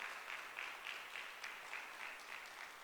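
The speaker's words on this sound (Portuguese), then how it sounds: "Aplauda Jesus." A church congregation applauds with rhythmic, steady clapping in a roomy space, a dense wash of hands beating together in even pulses without a pause.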